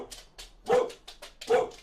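A dog barks twice, two loud, sharp barks spaced almost a second apart, with softer whimpering yips between them in a quiet indoor room.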